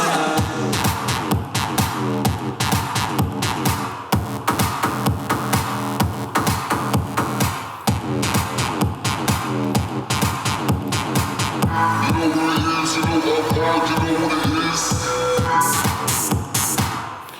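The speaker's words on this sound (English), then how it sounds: "so yeah, so with the wow filter on, it sounds like this." Synth line run through a wah filter cycling vowel-like tones inside a dense, steady electronic track with punchy beats, loud and continuous throughout, with a brighter, busier stretch in the last few seconds.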